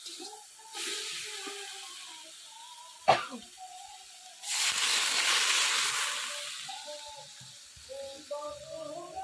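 Water poured into fried spice masala for a Bengali katla fish head curry, a sharp burst of sizzling hiss that swells and slowly fades, with a cough and brief voices before and after.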